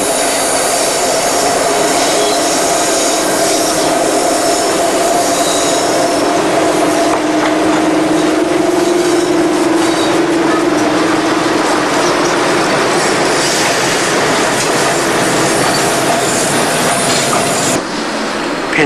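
A Class 37 diesel locomotive runs down the Pennar colliery branch line past Penmoyne platform near Oakdale Colliery, Wales, in 1989, with a loud, steady rumble, a sustained engine drone and wheels squealing on the rails, and no talk.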